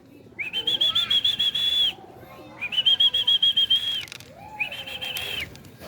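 Several bursts of pigeons' flapping wings with high whistling tones, coming in three bouts separated by short pauses, fairly close and clear.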